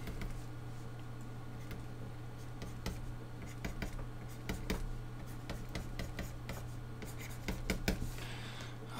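Soft, close scratching of a pencil on paper while a monster drawing is detailed, quick irregular strokes in bursts over a low steady hum.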